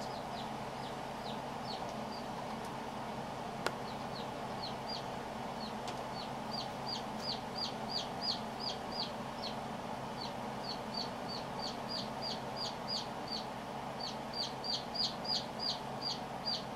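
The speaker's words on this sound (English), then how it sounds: "Y'all can probably hear the chicken." Chickens cluck in a steady series of short, sharp calls that grow busier toward the end, heard alone over a constant low background hum with no talk.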